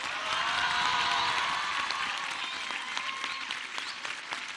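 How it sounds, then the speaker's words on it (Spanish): An audience applauds to welcome President Claudia Sheinbaum Pardo at a scholarship event in El Marqués. The clapping is dense and sustained, loudest at the start, then thins slightly as it carries on. "recibamos con un fuertísimo aplauso a la mujer que está poniendo en alto el nombre de nuestro país, a la presidenta Claudia Sheinbaum Pardo"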